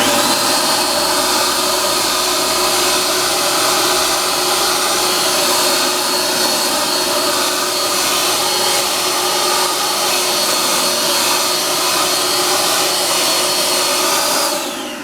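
A loud, constant blower blowing dirt off the ground roars without pause, a steady rushing whoosh with a motor whine and no voices.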